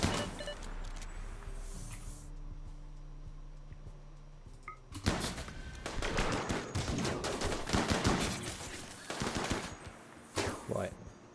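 Rapid bursts of video game gunfire erupt halfway through after a quieter stretch with tonal game sounds, dense repeated shots from several shooters continuing loudly to the end.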